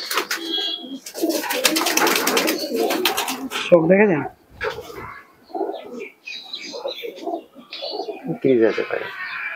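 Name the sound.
pigeons cooing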